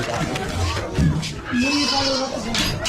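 A goat bleats a few times amid a busy crowd, its wavering cries rising over steady chatter and background noise.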